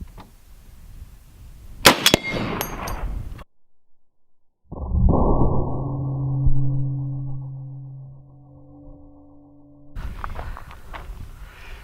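A rifle fires armor piercing incendiary tracer rounds at a stainless steel disc target outdoors: a sharp loud crack with clanging impacts, then after silence a ringing metallic tone that slowly fades.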